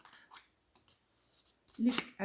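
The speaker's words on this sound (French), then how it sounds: "On découpe seulement sur une ligne, pas l'autre" Scissors snip paper along a drawn line in a few short, crisp cuts, close by, between bits of quiet handling.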